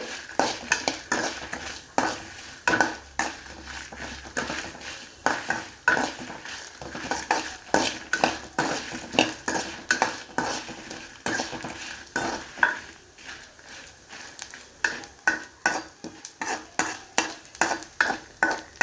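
Ingredients roasting with tamarind in a pan for chennangaku podi, a dry rhythmic scraping and clatter of a spatula against the pan repeating steadily over a faint sizzle, with no voices.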